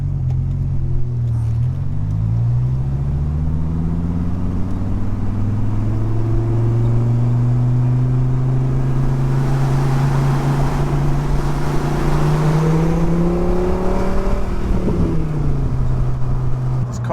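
A 120,000-mile Dodge Viper idles in traffic with a loud, steady, close rumble whose pitch slowly rises and falls as the revs shift. A voice may talk faintly beneath the engine.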